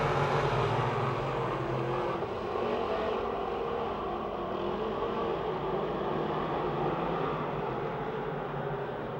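Big-block race cars accelerating together from a drag race start at Pennsylvania Motor Speedway near Pittsburgh, a dense sustained engine roar that fills the whole stretch with only slight swells, loud and steady with no talking.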